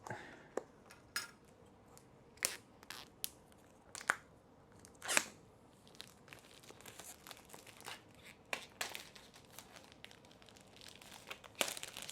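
Packaging for a DJI Osmo Action 3 action camera being opened, with repeated sharp crinkles, tears and light rustles of cardboard and plastic scattered across the stretch, fairly close and with no talking.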